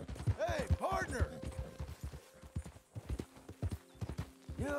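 Steady clip-clop of horse hooves trotting in Red Dead Redemption 2, with a voice speaking over parts of it and faint ambient tones underneath.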